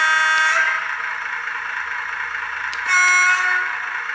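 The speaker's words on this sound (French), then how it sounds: "Un petit coup de klaxon." A model Berliet locotractor's digital horn sounds two loud, steady tooting blasts, one at the start and another a few seconds later, over a continuous idling engine drone.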